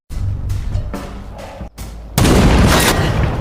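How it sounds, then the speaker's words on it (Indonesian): Gunfire in a sniper action film: a few sharp shots and booms in the first half, then a sudden loud sustained blast of heavy firing that continues to the end. "Mendengar suara tembakan, Brandon langsung berlari menuju sumber suar"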